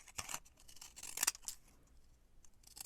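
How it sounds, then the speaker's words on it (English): Scissors snip through a piece of paper in a few quick, crisp cuts close by, with short pauses between strokes and no talking. "Let's cut a piece of paper"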